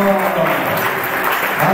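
A church congregation claps and cheers in praise, a dense, steady wash of applause that fills the space loud and close throughout.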